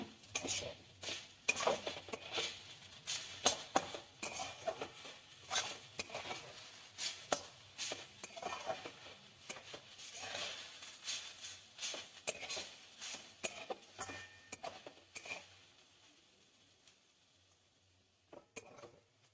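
Cauliflower frying in a pan on a low flame for cauliflower payesh, heard as quiet irregular stirring, clinks and scrapes of a utensil against the pan with a faint sizzle, fading toward the end.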